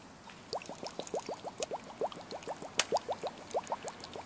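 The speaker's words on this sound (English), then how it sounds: "Don't know if you can hear that bubbling, but that's what it's supposed to do" Birch bark tar bubbles as it distills in a tin over heat, a quiet but close run of rapid liquid pops and blips in a loose, steady rhythm, with no voices.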